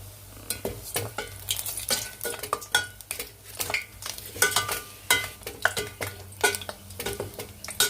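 Gulab jamun balls fry in oil over a low flame, a continuous crackling sizzle broken by frequent scraping and clinking as a utensil stirs them in the pan, close and fairly loud throughout.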